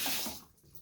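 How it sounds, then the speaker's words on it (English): Small drips of water fall close by in a short burst, a bright wet splashing that fades quickly. "there you go, little drips of water"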